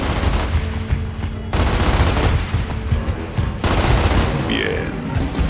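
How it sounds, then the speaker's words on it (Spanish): Continuous bursts of rapid gunfire in the video game Gears of War, heavy and sustained, with brief pauses between volleys and a faint voice underneath. "Disparo."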